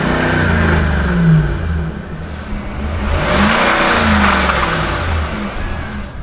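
A Ford 5.4 Triton engine with badly worn bearings and a rod-knocking noise, revved up loud and close, its rough mechanical roar rising and falling steadily with no talking.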